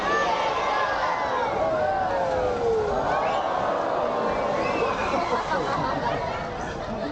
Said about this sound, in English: we want you and everyone to yell, jump Diego